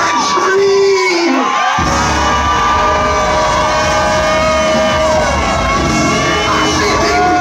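Loud, dense screaming and shouting from a church congregation at a sermon, a sustained roar of many voices that surges in after a brief lull and holds throughout.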